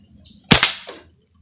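A GTP toy pipe gun fires at a bottle: two sharp cracking shots in quick succession, followed by a fainter snap, standing out loudly against a quiet background.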